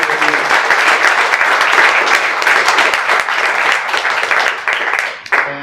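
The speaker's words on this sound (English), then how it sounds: "please give me your warmest applause for this fantastic" Panel audience applauding at a community diversity-in-tech event, a dense, steady wash of many hands clapping for over five seconds before it thins and fades at the end.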